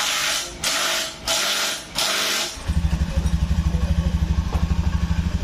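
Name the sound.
Honda Beat 2019 scooter engine started and running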